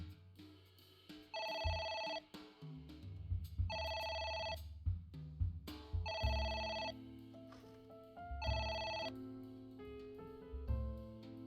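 A telephone bell rings in four evenly spaced bursts, each bright trilling ring lasting about a second, with a low tonal background droning underneath between rings.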